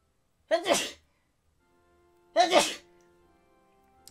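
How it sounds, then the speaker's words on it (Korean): Two loud, close sneezes about two seconds apart, each a sharp burst with a short tail, in an otherwise quiet room. "아 재채기 죄송합니다"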